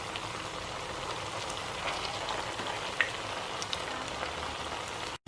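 Rosbora sweet frying in hot oil, a steady dense crackling sizzle with small pops, close and continuous until it cuts off abruptly at the end.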